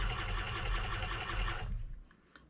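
A sewing machine stitches through thick fur hide, a dense rapid mechanical chatter close by that runs steadily for about a second and a half and then stops.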